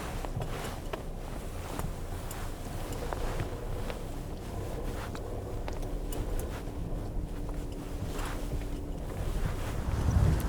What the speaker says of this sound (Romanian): Bate vântul foarte tare aici.